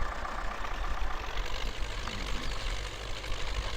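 A steady, low rumbling idle from an MTZ 82.1 four-wheel-drive tractor engine in Spintires: Mudrunner, running continuously and evenly at moderate volume with no talk over it.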